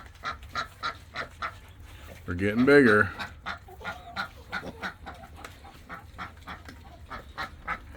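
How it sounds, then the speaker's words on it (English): A noisy duck on a family farm lets out a loud burst of quacking and honking for about a second, standing out above steady nearby talk that runs through the whole stretch. "Oh, that duck's always noisy."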